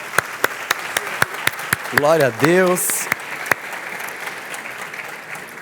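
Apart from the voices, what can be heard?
congregation applauding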